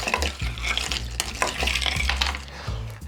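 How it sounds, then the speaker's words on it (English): A bar spoon stirring a Brazilian raspberry cocktail over crushed ice, close and busy, with rattling, scraping clinks of ice and metal against the glass throughout. "Grab your bar spoon. And now what we're going to do is we're going to mix this up."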